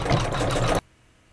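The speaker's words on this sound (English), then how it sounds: "I'm going to hit start and let it stitch this decorative outline." An embroidery sewing machine stitches a decorative outline in yellow thread on a quilted flower block, its steady rapid needle chatter running loud and continuous for most of the moment before stopping abruptly into near silence.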